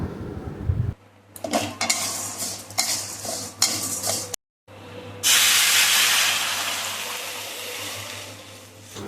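Mung dal is stirred and fried in mustard oil, with clattering utensil scrapes and knocks. After a brief gap, a loud, steady hiss of frying takes over.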